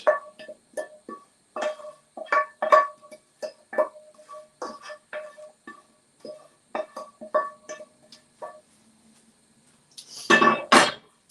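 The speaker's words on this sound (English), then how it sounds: "So make sure your batter mixture is all mixed nicely. Drop in cooked veg." Cooked vegetables being stirred into vegan fritter batter in a bowl make a run of sharp, irregular clinks and taps of utensil on dish. The sounds are close and have no talk, and a louder clattering burst comes at the end.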